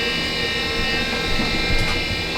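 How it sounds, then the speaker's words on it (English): Steady mechanical hum and drone of a washer dryer running nearby, constant and unbroken with a faint rattle now and then. "Sorry about the noise. The washer dryer is running."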